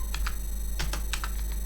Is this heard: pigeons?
no